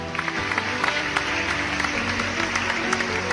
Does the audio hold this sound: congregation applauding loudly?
yes